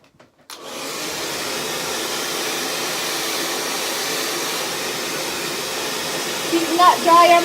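Hair dryer blowing steadily on wet hair, a loud continuous rush of air that holds from start to finish after a brief quiet opening, with faint clatter near the end.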